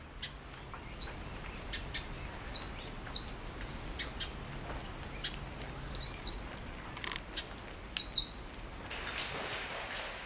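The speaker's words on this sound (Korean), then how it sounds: "인공의 빛과 소리가 닿지 않는 호주의 대자연에는 빗소리와 새소리뿐입니다" Scattered bird chirps ring out at intervals in an Australian rainforest over a soft, steady background hiss of rain, with several calls coming in quick pairs.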